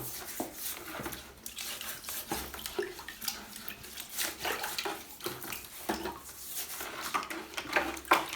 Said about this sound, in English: So just give the mixer a little clean in a clean bucket.